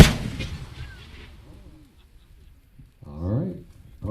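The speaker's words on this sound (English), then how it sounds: "A 4-inch mine fan with peach and yellow glitter." A 4-inch firework mine fan at a festival display fires two separate bursts of booming launches, the first at the very start and the second near the end, with a quiet gap between them.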